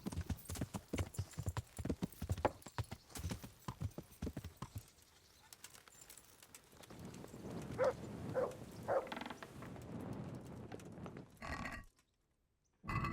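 Rhythmic clip-clop of horse hooves in the PC video game Kingdom Come: Deliverance, steady and close at first, then slowing and fading, followed by a brief snort and quiet.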